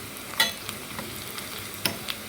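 Masala frying in a pan on low heat while cooking a mutton curry: a soft, steady sizzle with a few brief scraping stir strokes, close and fairly quiet, with no voices.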